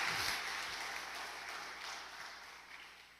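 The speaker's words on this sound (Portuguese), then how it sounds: "Você pode dar um aplauso pela palavra de Deus, que é viva e eficaz" A church congregation applauds after a sermon reading, a broad wash of clapping that is faint and distant and fades gradually over a few seconds.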